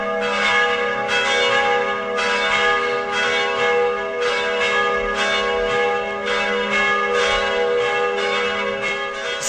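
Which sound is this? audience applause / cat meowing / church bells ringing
church bells ringing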